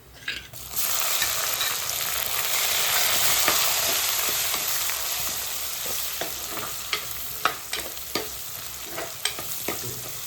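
Tomatoes frying in oil with ginger and green chili: a strong, even sizzle that settles down, then a run of sharp stirring clicks and scrapes near the pan, with no talking.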